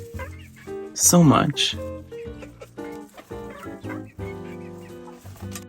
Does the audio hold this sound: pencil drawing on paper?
no